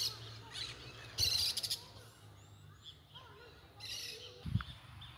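A maritaca parakeet eating mango in a wooded park gives a few sharp, raspy calls in short bursts against a quiet background, with faint bird chirps between them.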